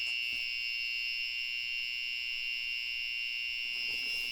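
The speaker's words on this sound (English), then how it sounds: "our alarm is a little early this time" A scooter battery monitor alarm shrills in a continuous high-pitched electronic tone, loud and steady through the whole stretch with no talking over it.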